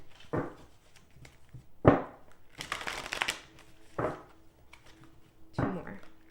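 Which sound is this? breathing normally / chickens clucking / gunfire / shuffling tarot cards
shuffling tarot cards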